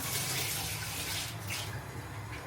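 Hot water is poured into a pan, giving a steady, close rush of liquid for a couple of seconds that eases slightly toward the end, with no voices.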